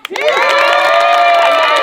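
A crowd cheers loudly for a team, a sustained burst of shouting and whooping voices, close and full, holding steady for a couple of seconds.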